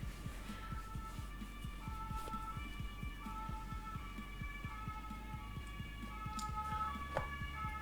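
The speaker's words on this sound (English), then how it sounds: "There's an ambulance." An ambulance siren wails faintly in the distance, its rising and falling tone drifting under a low rhythmic thumping hum indoors.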